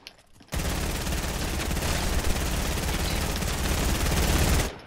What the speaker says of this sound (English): Yeah, keep shooting at him.